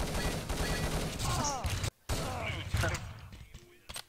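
Rapid gunfire bursts and mechanical weapon clatter in an Urban Terror competitive match, dense and loud with a brief silent gap midway.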